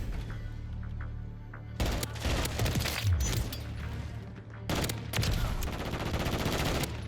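An FR 556 burst rifle fires in Modern Warfare 3, with two loud stretches of rapid, clustered shots separated by a brief lull and a low background hum.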